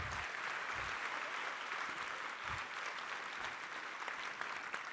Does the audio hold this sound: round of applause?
yes